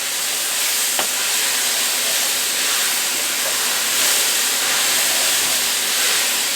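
Beef minestrone soup ingredients cooking in a pot, a continuous loud sizzling hiss with steam, with a faint scrape or two of stirring.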